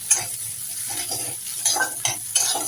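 Spiced mashed potato stirred in oil in a pan, seasoned with turmeric, salt and pepper: close scraping and stirring strokes over a soft steady sizzle, with a few sharper utensil scrapes toward the end.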